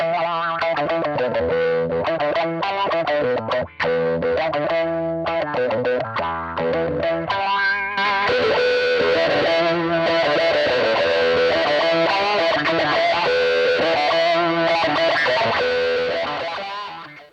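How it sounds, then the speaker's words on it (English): A distorted electric guitar runs through a wah-like expressive effect on a NUX MG30 multi-effects unit, with sweeping vowel-like tonal shifts over chords and single notes, loud and continuous with no talk. "It's a very expressive effect and it gives you everything from like your standard crybaby sounds all the way up to a talk box sort of effect"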